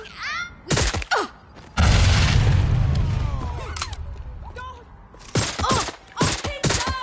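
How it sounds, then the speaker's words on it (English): Bursts of gunfire in the video game Watch Dogs Legion, several sharp volleys and a sustained booming rumble in the middle, with gasping and shouted voices between shots. "someone's shooting!"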